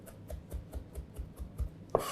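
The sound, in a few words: knife chopping parsley and coriander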